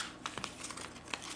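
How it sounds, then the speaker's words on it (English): Paper is creased and folded by hand while making a paper F-14 Tomcat airplane: a few faint, quick crinkles and soft taps close up, with no talking. "we folded that over, did the exact same thing on the other side"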